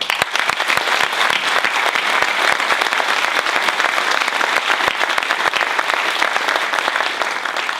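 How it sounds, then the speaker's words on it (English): A theater audience at an arts education event applauds performers, a singer and a show choir, with steady, dense clapping that stays loud and even throughout, no talking over it. "Let's give applause for these two wonderful acts and wonderful messages from Sabrina and from the Southwestern Show Choir."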